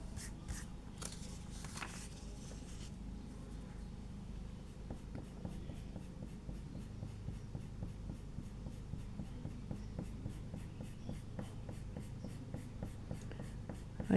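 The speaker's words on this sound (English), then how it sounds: "I'm just being as gentle as I can to get that pencil off, to make it nice and crisp" A pencil eraser rubs gently across a paper bookmark in steady, rapid back-and-forth strokes, soft and close, with a faint room hum beneath and no talking.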